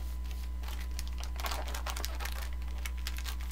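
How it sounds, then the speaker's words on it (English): Wrapping paper crinkles and crackles as its creased sides are folded in against a gift box, in close, irregular bursts over a steady low hum. "you'll just fold in the sides that you just creased so they're at a 90-degree angle to the box"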